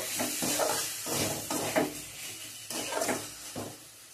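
Drumstick flowers, potato and poppy-seed paste are stirred in a pan with mustard oil, giving soft rhythmic scraping strokes over a faint sizzle, close and fairly quiet.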